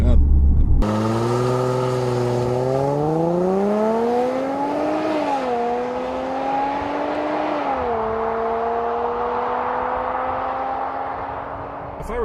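A 2014 Range Rover Sport, supercharged, accelerating hard from 0 to 60, engine whine climbing in pitch through several gear shifts, loud and close from inside the cabin after a brief opening burst.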